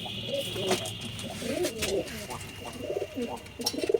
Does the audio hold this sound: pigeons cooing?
yes